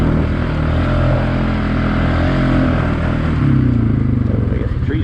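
A motorcycle fitted with a new clutch kit revs loudly and close, its engine note rising and falling steadily with a rough, throaty rumble throughout.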